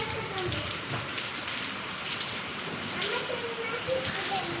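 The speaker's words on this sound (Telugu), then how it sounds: "అగో చిన్న చిన్న ఐస్ రాళ్ళు అయితే పడుతున్నాయి" Small hailstones pelt down during a hailstorm in Hyderabad, a dense, steady clatter of pellets mixed with heavy rain, close by and continuous with no pauses.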